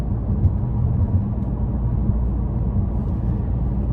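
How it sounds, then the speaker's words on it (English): A 2024 Toyota Camry XSE V6 cruises on cruise control at low revs, giving a steady, muffled low rumble of engine and road noise inside the cabin, with no other sounds standing out. "under just cruise control conditions, the engine tends to be pretty quiet"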